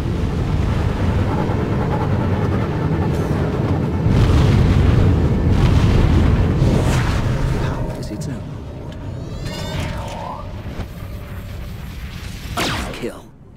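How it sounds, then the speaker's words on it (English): Missile explosions boom in the SWTOR Galactic Starfighter space combat game, heavy rumbling blasts layered over dense engine roar, with a synthetic voice speaking over the noise before it thins toward the end. "Missile inbound."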